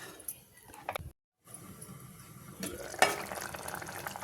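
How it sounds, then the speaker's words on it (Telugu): Masala gravy for phool makhana curry, thinned with half a cup of water, simmers in a pan with soft bubbling and a brief stirring scrape, fairly quiet and with no voices. "చూడండి గ్రేవీ బాగా ఉడుకుతా ఉంది కదా"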